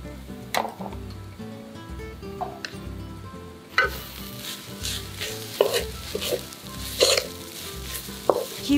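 Spices stir-fried in a hot pan sizzle steadily, broken by sharp scraping strokes of the spatula against the metal, close and fairly loud with no talking.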